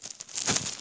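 Packaging being opened by hand gives a short burst of close, crinkling plastic rustle that swells toward the middle and stays dense to the end.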